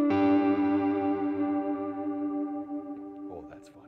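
An electric guitar chord rings out through an Earthquaker effects pedal with a Klon clone and amp reverb, sustaining and slowly decaying for about three seconds before a brief scratchy strum of new notes near the end.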